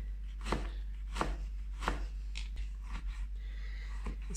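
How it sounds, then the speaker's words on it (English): A knife cuts guanciale into small pieces on a board, with about seven sharp chopping strokes at an uneven pace over a low steady hum, quiet and close, with no voices. "Be careful not to cut yourself, and then just slice it in pieces"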